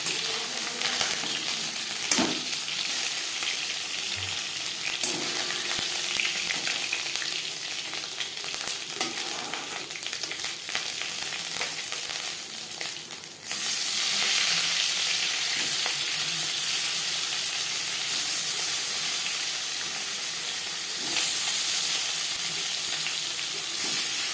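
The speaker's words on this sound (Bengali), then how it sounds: "পরের মাছও মাথা একইভাবে ভেজে নেব" Hilsa fish fries in hot oil in a pan, giving a steady, loud sizzle that continues for the whole stretch. Near the midpoint it briefly dips, then comes back stronger. No one speaks.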